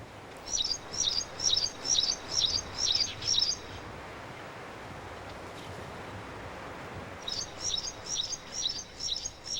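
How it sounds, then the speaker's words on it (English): A wryneck calls in desert wilderness in the Holy Land with a rapid series of about seven shrill, repeated notes, a pause, then another run, over a steady rushing background like surf or wind. "The wryneck, a shy and secretive bird."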